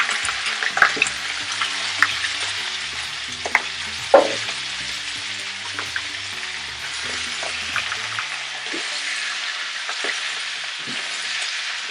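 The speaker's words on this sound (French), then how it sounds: "Une fois que l'huile est chaude, on met tout de suite la viande." Goat meat fries in hot oil, a continuous crackling sizzle punctuated by sharp clanks and scrapes of a spoon stirring in the pot.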